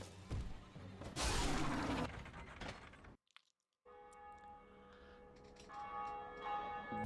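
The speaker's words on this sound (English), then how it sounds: "I'm going to be ringing the first bell of awakening like it's a Sunday morning" A church-style bell tolls in the Dark Souls video game: the Bell of Awakening rings out after a loud crash, then a sustained, resonant peal with layered overtones hangs on and swells, with no talking.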